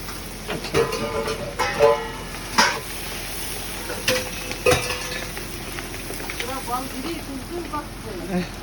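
Garlic, onion and green chili fry in hot oil with a soft sizzle, broken by sharp scraping and clinking strokes of a spoon against the pan while someone talks.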